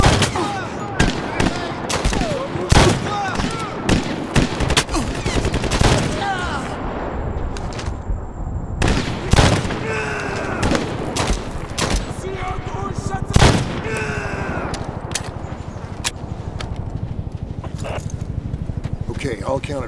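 Repeated gunshots and bursts of gunfire from the Medal of Honor shooter game crack out in dense clusters, with loud single shots and rapid volleys spread across the stretch, under intermittent voices and radio chatter.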